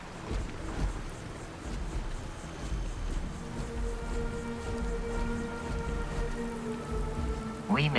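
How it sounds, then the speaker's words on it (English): Steady rain falls in the Starfield video game, pattering on surfaces in a United Colonies city's Mass District, a continuous even wash with faint tonal hums beneath and a brief sharp sound near the end. "And it's raining."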